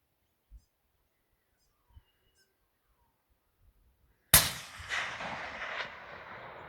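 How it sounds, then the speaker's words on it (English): A single sharp, loud gunshot cracks outdoors after a few seconds of near silence broken by faint thumps, followed by a long, fading echo that rolls away across open ground. "This shooting sucks today."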